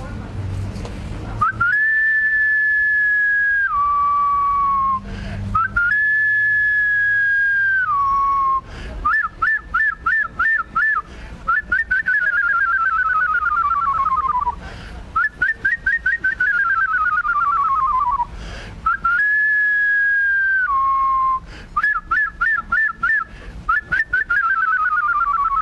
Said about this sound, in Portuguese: E ela canta assim, a Chica Chorona.